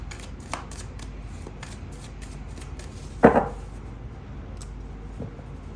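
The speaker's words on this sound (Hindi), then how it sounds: "फिर से ट्राई करते हैं शफल करने का वैसे एक बार" Tarot cards are shuffled by hand in a quiet room: soft, rapid riffling taps spread through the clip, with one louder slap near the middle.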